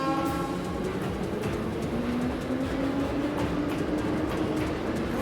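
A train pulls away in the video game Trails of Cold Steel 2, a steady rolling rumble with a faint rising engine tone. It runs continuously and fairly loud, with no voices.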